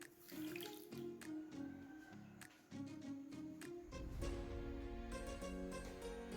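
Half a cup of water poured from a vessel into rice-flour batter for a shrimp rice cake, a continuous close splashing trickle that swells and thickens partway through, with soft clinks between.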